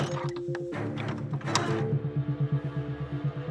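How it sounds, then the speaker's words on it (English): A Roman Scorpio artillery piece is readied, its adjustable sleigh pushed forward and back and sinew pulled into place, giving wooden clunks and a creak followed by a steady rhythmic ratcheting of clicks, close and clear. "They push the adjustable sleigh forwards, pull the sinew into place, and push the sleigh back again."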